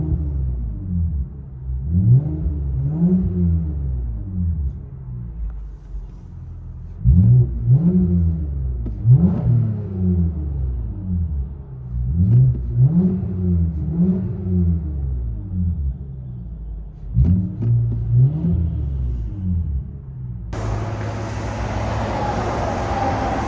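A 3.5L V6 fitted with an aftermarket muffler, heard from inside the vehicle, revs repeatedly in several rising and falling bursts of deep droning exhaust before a brief rustling noise at the end.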